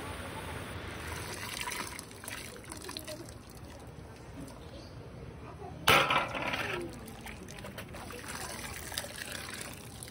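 Boiled vegetables being strained of their water through a sieve in a home kitchen: a soft, steady trickle and splash runs throughout, with one brief louder clatter of pouring partway, all fairly quiet and close.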